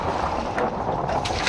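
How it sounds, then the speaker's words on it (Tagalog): Strong wind blows across the open sea around a small fishing boat, a loud, buffeting rush with wind noise on the microphone and water moving beneath. "Ang lalaki ng hangin, ang lilit ng alon."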